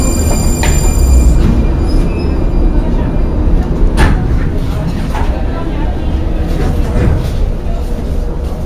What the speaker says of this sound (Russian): Вот так вот и работает метро в Праге.